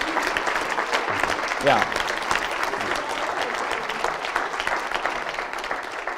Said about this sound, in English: he deserves a bigger round of applause for that